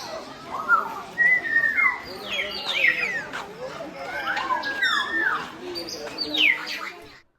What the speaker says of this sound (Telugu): బర్డ్స్ సౌండ్ చూడండి ఎంత పీస్‌ఫుల్‌గా అనిపిస్తుందో.